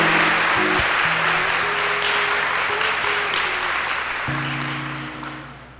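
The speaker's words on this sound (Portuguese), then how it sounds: "Agora aplauda bem forte o nome do Senhor" Sustained applause from a large church congregation, dense and steady, with organ or keyboard chords held underneath and gradually fading toward the end.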